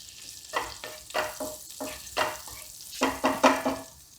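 Kasuri methi dropped into hot oil for masala pav, several short bursts of crackling and spoon scraping in a loose rhythm, close up with no voices over a quiet background.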